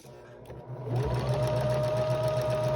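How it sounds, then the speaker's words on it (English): Sewing machine back stitching along the edge of a fabric zipper pouch, starting with a soft lead-in then a steady, close, continuous whir of the motor and needle, with no talk over it. "we are going to start in back stitch, and we wanna make sure we go all the way to the edge of our fabric"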